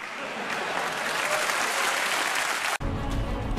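Applause from a crowd in a Minecraft BedWars game, a steady dense clapping wash that cuts off abruptly near the end and gives way to a low rumbling sound.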